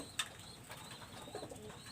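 Imported-bloodline flying pigeons coo softly in their loft, a few low, faint, throaty murmurs over quiet background.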